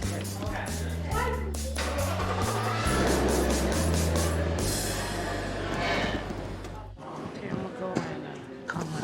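A car engine runs nearby, its tone rising and falling as it revs, then settles into a rougher idle.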